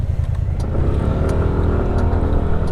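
A KYMCO Skytown 125 scooter pulls away with a steady, loud engine drone that stays close and constant throughout, with no talking over it.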